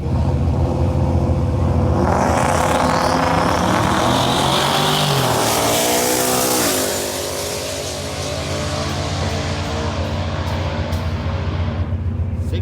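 A loud drag racing car, a 2020 Ford Coyote V8 on E85 with a 10R80 transmission, roars past at full throttle at a drag strip, its pitch sweeping down as it moves away, then fades into a lower rumble.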